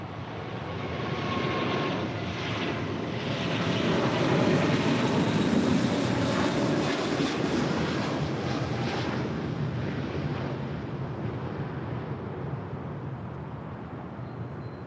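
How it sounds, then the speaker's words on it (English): A Korean Air Airbus A380 departs LAX bound for Seoul, its jet engines producing a loud, broad, sustained roar that swells and slowly fades, with some wind buffeting and no voices. "That is Korean Air Flight 18 Super departing to Seoul on the A380"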